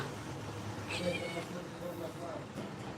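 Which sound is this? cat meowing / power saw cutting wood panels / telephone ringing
cat meowing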